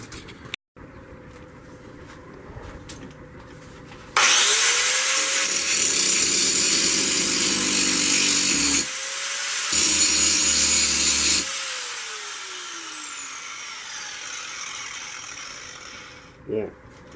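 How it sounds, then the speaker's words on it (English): An angle grinder grinds a knife blade flat, with a loud, harsh whine that spins up, runs steadily for about seven seconds with a brief pause, then winds down. Quieter handling noises come before and after it. "I got to take my angle grinder and grind that down flat"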